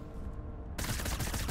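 Partway in, a sudden burst of rapid gunfire breaks out in a video game and keeps rattling close and loud, a dense automatic volley aimed at the player, with no talking over it.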